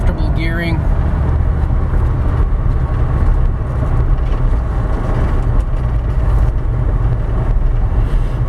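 A 1995 Nissan D21 Hardbody pickup cruises in fifth gear at about 55 mph, around 2200 rpm, with a steady loud engine drone and road rumble from inside the cab.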